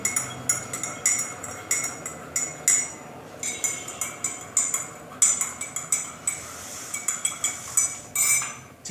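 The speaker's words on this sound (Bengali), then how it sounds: "এখন আমরা এটিকে নেড়ে চিনিকে মিশিয়ে ফেলব।" A spoon stirs sugar into green tea in a large mug, quick repeated clinks against the sides in uneven bursts, close and clear with no talking.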